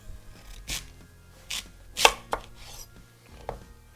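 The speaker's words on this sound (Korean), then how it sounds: "요 정도 되니까 반 잘라줄게요" A knife cuts a radish in half on a cutting board, with a few separate chops and thuds spread out, close and fairly quiet, no talking.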